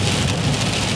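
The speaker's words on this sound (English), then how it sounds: "This is our storm of the day" A storm roars steadily around a moving car, a dense hiss of precipitation beating on the vehicle with a low rumble beneath, loud and continuous, with no talk.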